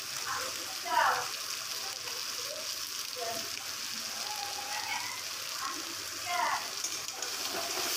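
Food frying in mustard oil in a home kitchen, a steady close sizzle and hiss throughout, with brief louder spatters and faint voice traces underneath.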